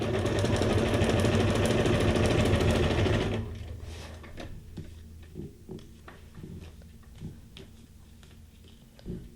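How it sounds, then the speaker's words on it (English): A sewing machine running a straight stitch, a loud, fast, steady motor whir for about three seconds that then stops, followed by quiet scattered clicks and taps of handling close by. "Let's just go ahead and put this through with our straight stitch"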